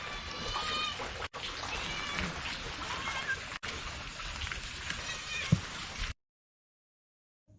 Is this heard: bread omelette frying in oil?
no